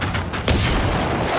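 Gunfire and an explosion in the Generation Zero video game: a sharp burst near the start, then a dense, sustained rumble of blasts and shots filling the rest of the moment, loud and close.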